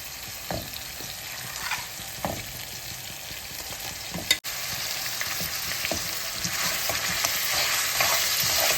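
Mutton fries in a masala cooked for about five minutes, making a steady hissing sizzle broken by occasional scraping stirs and a single sharp knock midway.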